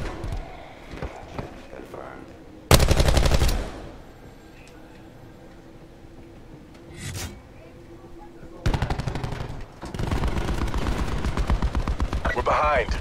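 Gunfire from a gun in a video game: a short rapid burst early, a brief shot midway, then a long sustained automatic stream near the end, loud and close, with someone talking over it.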